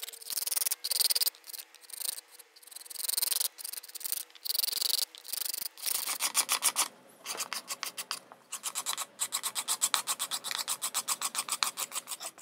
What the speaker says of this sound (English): Then we're going to scrape the surface and make it smooth.